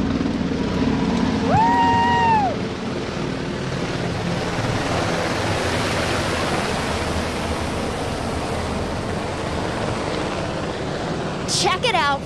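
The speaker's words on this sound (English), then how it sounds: "flying low and slow, 4 UH-60 Mike Black Hawk helicopters crossing over Covington right now" Four UH-60M Black Hawk helicopters fly low and slow overhead in a broad, steady rumble that swells and lingers, with a person whooping and chatter near the start.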